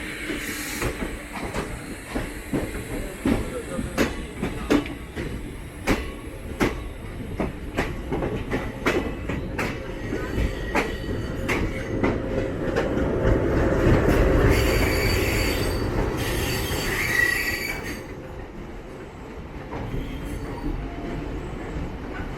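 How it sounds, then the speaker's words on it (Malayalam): The 12602 Chennai Superfast pulls into platform 3 at Chennai Central, wheels clicking rhythmically over rail joints and then squealing as the train slows, with steady rumble close by and no talk. "ചെന്നൈ സെൻട്രൽ പ്ലാറ്റ്ഫോം നമ്പർ 3 നമ്മൾ എത്തിച്ചേർന്നിരിക്കുകയാണ്"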